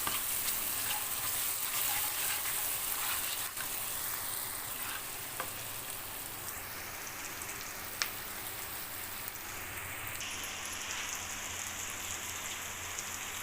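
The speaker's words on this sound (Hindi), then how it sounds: "चलो अब इसको अच्छे से मिक्स करते हैं और मसाले की बुनाई करते हैं सही से" Spice masala with turmeric roasting in a pan gives off a steady, close frying sizzle with soft stirring scrapes, continuous and even throughout with no voices.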